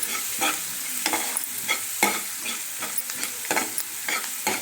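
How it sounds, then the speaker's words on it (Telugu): A spoon stirs eggplant and chickpea curry in a pan, giving rhythmic scraping strokes about twice a second over a steady close sizzle, with no voices. "దీన్ని బాగా కలుపుకోండి."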